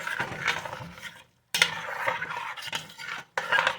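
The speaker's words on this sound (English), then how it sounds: "And stir that in." Spoon stirring diced tomatoes into broth in a soup pot, scraping and sloshing strokes in short bursts with two brief pauses, close and fairly loud, no voices.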